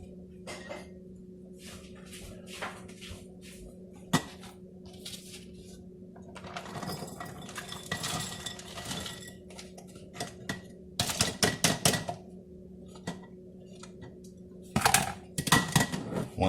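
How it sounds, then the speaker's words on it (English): Cut hot peppers drop into a heated glass jar, making clustered glassy clinks and rattles with quieter gaps between handfuls, close by and fairly sharp, over a faint steady hum, with no voices. "next step after you've cut up all your peppers, whatever kind of peppers you want to put in here, is to put them in the jar"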